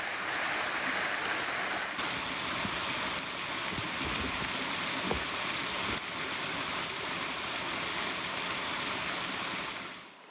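A rushing waterfall and mountain stream in the White Mountains of New Hampshire pour in a dense, continuous roar, steady and close with no voices over it.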